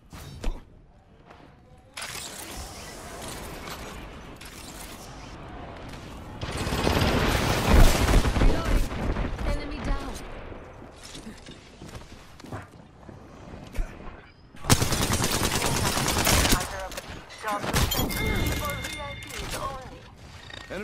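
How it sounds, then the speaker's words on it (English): Gunfire in the video game Apex Legends, bursts of rapid shots and heavy blasts in separate clusters over the gameplay sounds, with in-game voice lines between them. "Opening fire."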